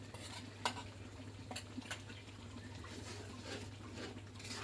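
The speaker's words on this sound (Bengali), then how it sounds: "এই মশলাটা ভালো করে কষাতে হবে তেল ওঠা পর্যন্ত" Roast spice paste fried in oil after long-cooked onions, with a steady low sizzle under repeated scraping strokes of a spoon stirring in the pan, close and moderately quiet, no talking.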